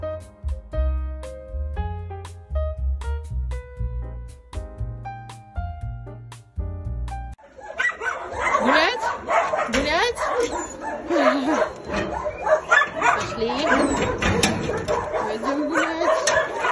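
Plinking tonal notes give way to a close dog yipping, whining and barking excitedly in rapid, uneven bursts.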